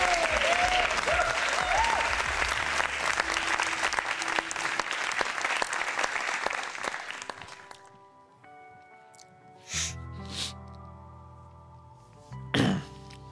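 Sustained applause from a crowd fills most of the stretch, loud and steady, then fades out; a few brief thumps and small sounds follow in quieter surroundings.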